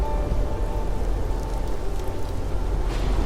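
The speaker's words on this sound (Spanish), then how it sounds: "hasta que se convirtió en un aguacero torrencial. Madre mía, cómo llovía." Heavy torrential downpour, a dense, steady roar of rain beating on surfaces without pause.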